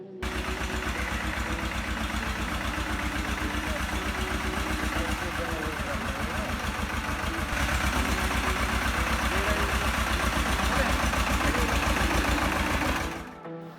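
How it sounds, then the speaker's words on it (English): An old tractor engine runs steadily while being driven through a village, a loud continuous low throbbing chug that holds for about thirteen seconds before cutting off near the end. "It was the first time in my life that I was driving a tractor."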